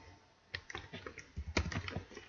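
Typing on a computer keyboard while setting up an Android app build, quiet irregular bursts of key clicks at close range with brief pauses, no talk.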